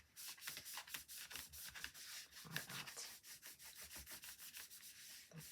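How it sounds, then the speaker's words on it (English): Embossing foam is wiped clean of wet ink, a soft continuous rubbing and scrubbing with rapid repeated strokes, close but quiet, with no voices. "Just going to wipe for my embossing foam before that ink dries, and wipe it off."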